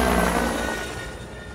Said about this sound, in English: Fire up the chopper.